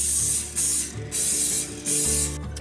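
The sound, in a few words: cooking spray onto casserole dish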